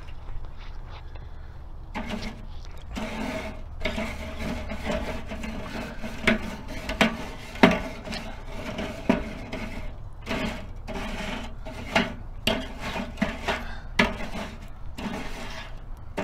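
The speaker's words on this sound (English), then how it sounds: "So now I'm gonna just give it a brush." A wire brush scrubs a hot charcoal grill grate at over 600 degrees F, giving repeated scraping strokes in irregular bursts, fairly close and moderately loud over a low steady background hum.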